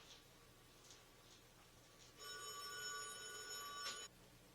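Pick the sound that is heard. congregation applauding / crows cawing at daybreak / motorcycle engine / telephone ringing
telephone ringing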